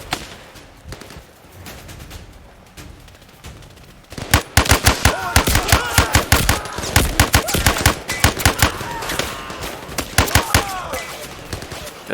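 Gunfire in the VR shooter game Zero Caliber: a few scattered shots at first, then from about four seconds a loud, dense burst of rapid automatic fire with rattling impacts that continues to the end.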